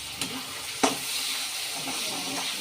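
Gongura chicken curry being stirred in a pan, with a steady sizzle and a couple of sharp scraping clicks of the spoon, close and fairly loud.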